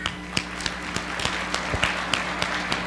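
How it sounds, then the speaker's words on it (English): Scattered clapping from a school audience cheering seniors, sharp hand claps popping at irregular intervals over a steady roomy background hum, fairly faint and sparse rather than a full ovation. "Everybody clap for them seniors."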